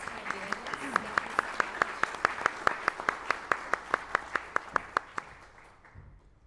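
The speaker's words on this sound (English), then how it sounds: "Why don't we give them a round of applause?" Members of an audience clap at a talk event. The claps are sharp and evenly spaced, about twenty in a steady rhythm, then fade out.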